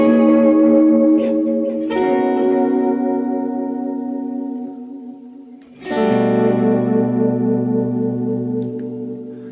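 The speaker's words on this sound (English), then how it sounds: "Gives you a beautiful chorus kind of effect, but not exactly a chorus, more like a modulated delay." Two sustained electric guitar chords run through a TC Electronic Flashback X4 analog delay with modulation, the repeats wavering in pitch for a chorus-like shimmer as each chord slowly fades, played alone and up close.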